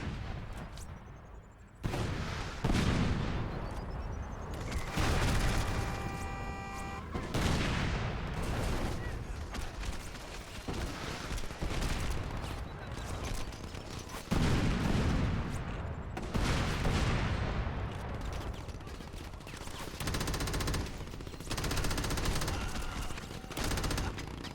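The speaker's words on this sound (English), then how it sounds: "there's people just randomly shooting at what seems to be a dumpster." Gunfire in the video game Crackdown: repeated bursts of rapid shots and heavy booms, loud and dense, rolling on almost without pause over a long stretch.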